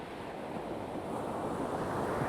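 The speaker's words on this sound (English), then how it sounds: "If those breakers, that perhaps you can hear, if those breakers are only 10 yards out" Waves break on an East Coast beach in a steady, rushing wash of surf, mixed with wind noise on the microphone and slowly growing louder, with no voices.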